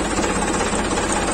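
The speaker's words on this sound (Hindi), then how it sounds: "आपां ट्रैक्टर स्टार्ट कर लिया" Ford 3600 tractor engine running, a loud, close, steady low diesel rumble with continuous vibration and no voices.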